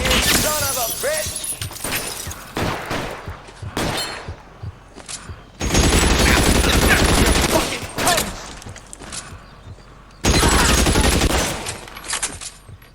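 Gunfire in the L.A. Noire video game on PS3: bursts of loud shots and rapid fusillades come in heavy blocks with short gaps between them. Some scattered sharper cracks and faint voices sit in the quieter stretches.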